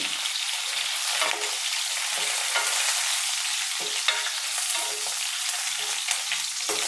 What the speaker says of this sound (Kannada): ಸ್ವಲ್ಪ ಫ್ರೈ ಆಗಲಿ ಇದು ಈಗ ಮೆಣಸಿನ್ಕಾಯಿ ಗಮ್ಮಂತ ಫ್ರೈ ಆಗಿದೆ